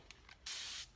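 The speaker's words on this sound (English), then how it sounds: "And then if I want, I can spray that" A spray bottle mists water onto paint on a guitar being decorated, with a couple of faint pumps and then one steady hiss lasting under half a second, close and alone.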